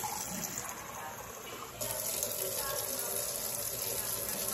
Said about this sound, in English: I'm gonna pour a little bit of warm water.